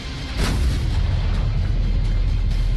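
A heavy blast from a Russian attack on Ukraine erupts with a sharp boom, then rolls on as a loud, sustained low rumble with no voices.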